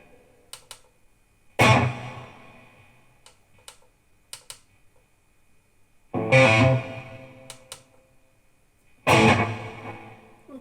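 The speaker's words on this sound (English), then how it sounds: "Put a bit more reverb on it" Electric guitar chords strummed through a Behringer V-Amp 2 amp modeler, three bright, distorted bursts ringing out with reverb tails, separated by light ticking and pauses.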